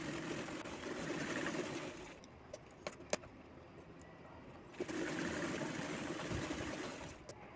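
A sewing machine stitches the folded back strip of a two-year-old's baby frock, running in a steady whirring burst, pausing for about three seconds with a few clicks, then whirring again at close range.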